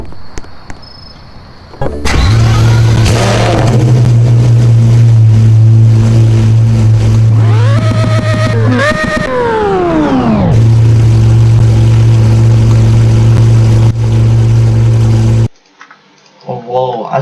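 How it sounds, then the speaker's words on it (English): A Pagani Huayra starts up in the Greenville video game, a loud engine that fires and settles into a deep idle, then revs hard twice with rising and falling pitch before returning to idle and cutting off. "Let's actually do a startup here, because we did it in the tunnel, so we saw how loud it was."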